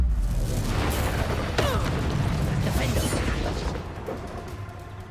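Loud bursting blasts from the Confringo fire spell in Hogwarts Legacy, several booming impacts with crackling debris over dense combat noise, a shouted incantation and voices mixed in.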